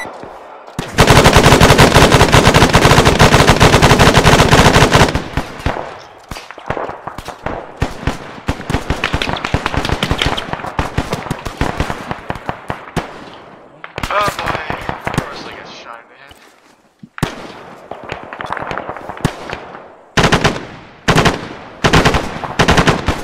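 Video game firefight with dense bursts of automatic gunfire, a long loud sustained volley at the start followed by ragged stuttering bursts and single shots, close and harsh, with brief gaps between.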